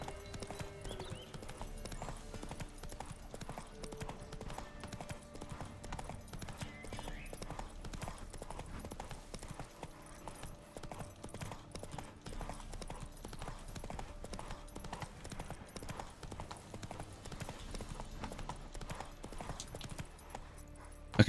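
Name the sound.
horse Roach's hooves clip-clopping, from a video game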